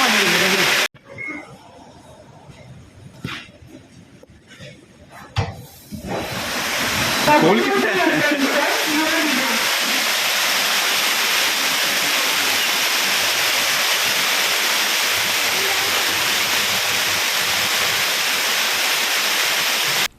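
After heavy rain, floodwater gushes through the leaking roof into an underground metro station in Mumbai, a loud, steady roar of pouring water that settles into a continuous rush, with voices talking in the first few seconds.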